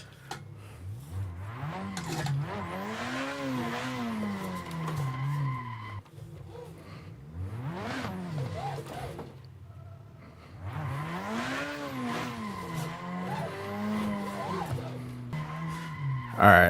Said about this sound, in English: We made it through the entire track in one drift.